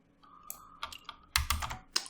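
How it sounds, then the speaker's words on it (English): A deck of Mage Knight board game cards is shuffled by hand, a close series of irregular sharp clicks and light slaps, alone without talk. "Give that a shuffle."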